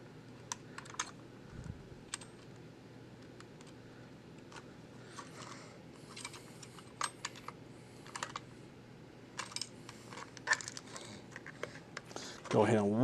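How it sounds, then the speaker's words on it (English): Small ratcheting clicks and light mechanical ticks from film being wound in a Cine Kodak 8 Model 25 camera come in scattered bursts, close and fairly quiet, with a louder rustle near the end. "Let's wind it just a little more."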